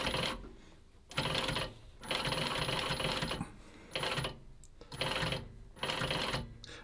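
A post wheel sewing machine stitches leather clog uppers in several bursts of steady mechanical whirring, separated by brief pauses.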